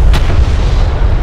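Loud close artillery-style gunfire striking a turret in the real-time strategy game Homeworld: Deserts of Kharak, a heavy booming blast with rumbling low-end decay.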